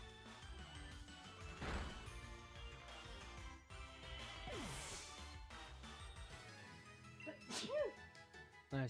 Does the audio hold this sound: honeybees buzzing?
no